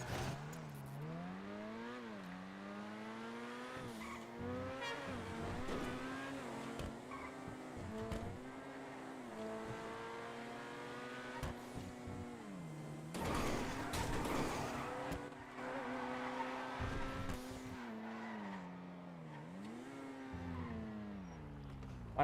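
Engine of a heavy X7 SUV driven in a GTA roleplay game, revving up and down through gear changes with tire squeals and skids, steady and fairly faint, no talking.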